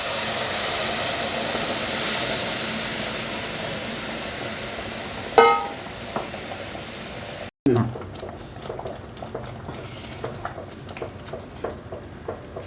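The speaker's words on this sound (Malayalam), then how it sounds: "ആ വെള്ളം ഇതിലോട്ട് നമുക്ക് ഒഴിക്കാം." Boiling water poured into roasted semolina for sheera gives a steady hiss and bubbling, then a sharp burst of sizzle partway through, settling into softer crackles and bubbling close by.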